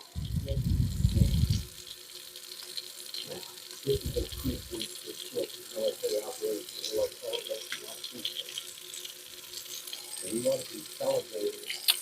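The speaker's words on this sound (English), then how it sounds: "All right, we're going to rinse this off." Berkey water filter parts are rinsed under a running tap in a short, loud gush of water, after which a person talks over quiet background noise.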